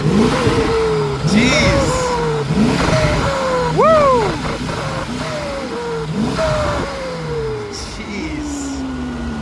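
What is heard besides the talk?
turbocharged supercar engine revving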